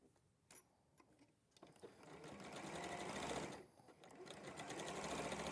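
A sewing machine stitching diagonal lines runs in a fast, steady mechanical whir. A few clicks and short starts come first, then a long continuous run that pauses briefly and resumes, close and clear, with faint background voices.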